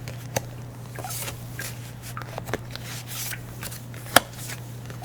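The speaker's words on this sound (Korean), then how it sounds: "세 장의 카드를 뽑아보겠습니다." Tarot cards are shuffled and drawn, heard as soft, close papery rustles and slides against a low steady hum, with several sharp little snaps as cards are laid down. No one speaks.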